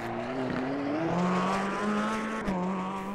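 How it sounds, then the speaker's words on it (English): Corvette C8R race car engine in Automobilista 2 on the Long Beach street circuit, a loud close snarl rising and falling through gear changes, with a brief tire squeal, no talk. "enjoy a lap around Long Beach in the driver's seat of the Corvette C8R"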